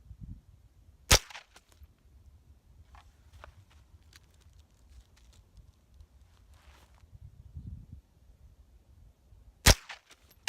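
Two sharp gunshots fired outdoors at homemade body armor, one near the start and one near the end, with quiet scuffing and faint movement in between.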